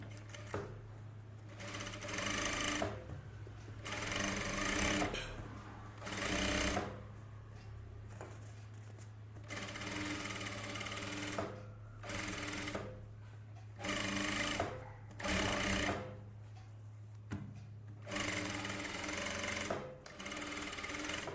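A domestic sewing machine stitches a blouse in repeated short bursts of rapid needle clatter and motor whir, separated by brief pauses, with a low steady hum running underneath throughout.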